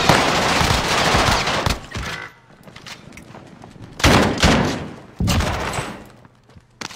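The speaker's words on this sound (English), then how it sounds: "I got someone shooting me from over here" Rapid automatic gunfire in Call of Duty: Warzone comes in three loud bursts, separated by quieter gaps with faint game ambience.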